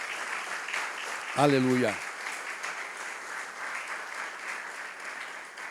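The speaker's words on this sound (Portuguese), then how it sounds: "Pode aplaudir ao Senhor." Congregation applauding in a church service, a continuous wash of clapping that runs the whole way through, briefly overlaid by one voice calling out near the start.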